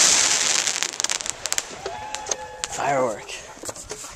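A ground-lit consumer firework goes off close by outdoors, with rapid crackling pops followed by a rising whistle, while excited voices talk and shout over it.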